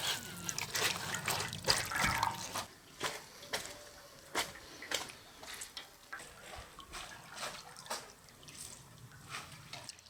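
Hot water is poured and drips during traditional Sardinian olive oil pressing, giving irregular splashes and trickles close by, busier at first and then settling into scattered drips.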